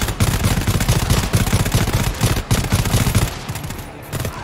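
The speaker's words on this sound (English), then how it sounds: "As soon as they bust that, you open fire. Just start blasting at them." Rapid gunfire from the co-op shooter GTFO rattles through dense, overlapping bursts that run nearly the whole time, loud and close, fading somewhat near the end.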